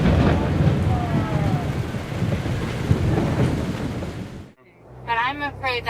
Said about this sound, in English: A terrifying storm near the city of Niamey in West Africa.